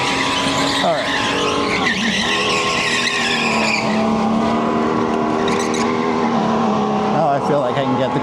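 A supercharged go-kart races around an indoor track in Edison, New Jersey, its engine droning loud and close from the driver's helmet position, with repeated tire squeals through corners and a voice talking over it.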